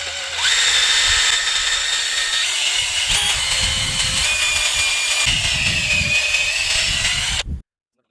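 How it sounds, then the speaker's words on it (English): A DeWalt cordless battery drill whirs steadily at close range for about seven seconds, its pitch wavering slightly under load before cutting off abruptly, with no talking. "So I went and bought a DeWalt handy dandy cordless battery drill."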